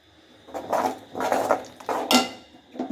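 Ground masala paste stirred in hot oil for a roadside-style empty salna, heard as a few close, uneven scraping and clinking strokes of a utensil against the pan with quiet gaps between them.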